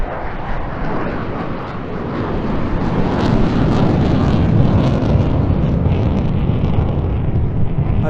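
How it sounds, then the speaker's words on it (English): Eurofighter Typhoon jet at an airshow going into full reheat and climbing steeply, a loud, sustained broadband roar that swells and holds steady throughout, with wind buffeting the microphone. "going from 120 knots back into full reheat and then climbing on its tail effortlessly"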